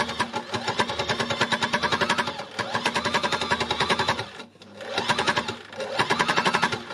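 A sewing machine runs in steady bursts while stitching a textile landscape, a fast even mechanical chatter that stops briefly near the middle and starts again, loud and close with no talking.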